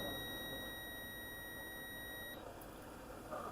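Steady high-pitched electronic beep during repair of a 2017 MacBook Pro motherboard with a short on the PP bus line, holding as one continuous tone before cutting off abruptly, with faint background hiss.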